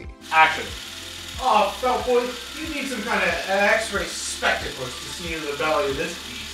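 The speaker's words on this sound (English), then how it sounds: "the biggest kind of roadblock with this is the sound of the Super 8 camera itself" A noisy Super 8 film camera motor runs with a steady, regular low ticking whir throughout, sitting beneath a man's animated spoken lines in a short film.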